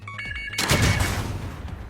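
Gunfire aimed at the player in the video game Warzone Pacific: a few quick electronic tones, then a sudden loud burst of rapid shots that rattles on and fades into echoing crackle.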